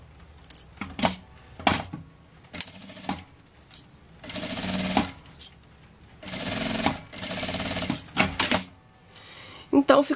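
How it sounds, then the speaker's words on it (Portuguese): A sewing machine stitches a seam along the edge of a fabric bag, its runs of rapid mechanical whirring starting and stopping, close by, with clicks and handling noises between bursts. "E aí eu passo uma costura aqui na beiradinha"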